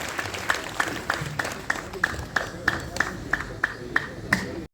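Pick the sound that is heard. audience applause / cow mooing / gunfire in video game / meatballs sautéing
audience applause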